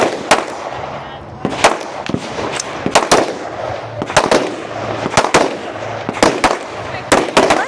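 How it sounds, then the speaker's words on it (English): Pistol and rifle shots ring out at a men's elite stage of a regional shooting competition in New Hampshire. Loud, sharp reports come at irregular intervals, some in quick pairs, over faint background chatter. "Pistol and rifle is also going to be freestyle. 10 shots with the pistol."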